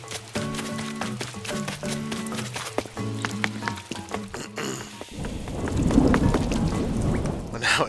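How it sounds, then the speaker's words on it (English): Thunder rumbles and rain falls in the video game Animal Crossing: New Horizons, with layered game music over the first five seconds, then a loud, dense wash of rain and rumble. "Well, now it's really thundering in the game,"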